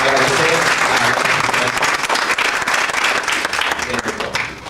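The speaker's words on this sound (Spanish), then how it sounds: "Un fuerte aplauso" Strong audience applause fills a lecture hall at a course on pre-Columbian and traditional Ecuadorian textiles, dense clapping from start to finish, with voices faintly mixed in and fading at the end.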